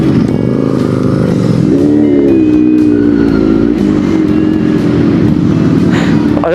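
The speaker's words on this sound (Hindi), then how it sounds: "बहुत ही भयंकर ट्रैफिक में जूझना पड़ रहा है हम लोगों को" Dense road traffic surrounds a Kawasaki Z900 motorcycle on a ride from Delhi toward Mussoorie, with a loud, steady drone of engines and harmonic motor hum throughout, plus occasional faint horn tones.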